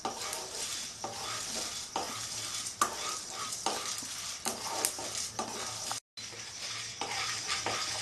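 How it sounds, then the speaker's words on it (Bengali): Whole spices dry-roasted in an oil-free pan for Bengali-style chanachur, a dry crackling hiss under a spatula scraping the pan in steady, repeated strokes, with one brief dropout. "মশলাটা আমি আগে শুকনো খোলায় ভেজে তারপর গুঁড়ো করে রাখবো"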